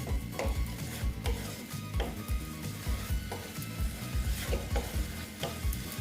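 Snake gourd curry with ground peanuts, coconut paste and added water, stirred in a pan with a steady scraping rhythm over a continuous close sizzle.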